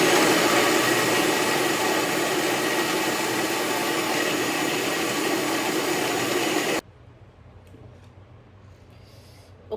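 A blender whirs loudly and steadily as it blends thick peanut butter, a dense continuous roar for several seconds that cuts off abruptly into quiet room noise.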